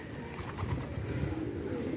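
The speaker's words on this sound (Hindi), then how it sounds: "छः सात कबूतर अभी भी उड़ रहे हैं" Trained high-flyer pigeons coo in low, soft, repeated calls close by, over a continuous rustling background throughout.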